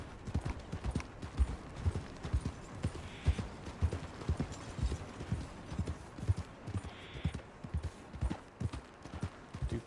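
Horse hooves clip-clop at a gallop in Red Dead Redemption 2 on PS4, a fast, steady rhythmic beat of thuds that carries on throughout at moderate loudness.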